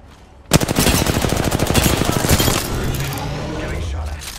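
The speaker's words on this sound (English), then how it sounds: "Getting shot at." Rapid automatic gunfire from the Apex Legends battle royale game bursts in loud and dense, a fast rattling stream of shots that keeps going for several seconds and then gives way to quieter game sounds.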